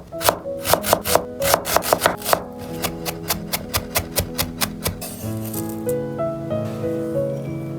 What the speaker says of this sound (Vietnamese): Mình chuẩn bị thêm một củ hành tím, băm nhỏ ra.